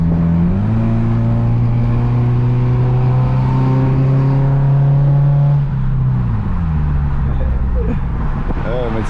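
Sustained deep exhaust drone from a Subaru Impreza with a sport exhaust, steady and close, with a pitch shift as the engine note changes and a softer tail; a voice talks over it.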